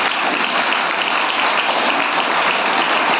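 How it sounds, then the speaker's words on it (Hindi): Crowd at a speech event at a farm house applauding loudly, a dense, steady wash of clapping that fills the whole stretch without a break. "एक बार तालियां बजा अपने लिए दमदार वाली।"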